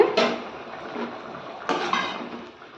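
A lid lifted off a pot of cooking cassava fry clatters with two sharp metallic clanks about a second and a half apart, with faint rattling and a low kitchen hiss between them.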